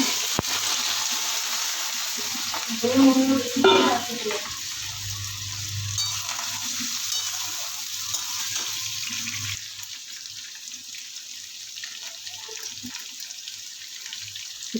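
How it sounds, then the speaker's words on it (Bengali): Potatoes dropped into hot oil, sizzling and frying with a bright, steady crackle, a brief clatter of handling early on, then the sizzle settling quieter and continuing alone. "তেলটা গরম হচ্ছে এবার আলুটা দিয়ে দেব এবার আলুগুলো দিয়ে দেওয়া হলো"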